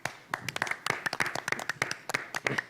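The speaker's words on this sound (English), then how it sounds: "I'm going to clap." Scattered clapping from a small audience at a health programme event, distinct individual hand claps in uneven bursts, fairly close and moderately loud, with no voices over them.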